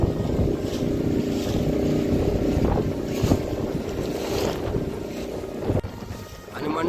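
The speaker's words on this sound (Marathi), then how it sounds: "हे बघा, वारा भरपूर आहे." A moving fishing boat out at sea in strong wind, with loud, constant rushing wind buffeting the microphone over the engine drone and the hull slapping the water, and no clear talk.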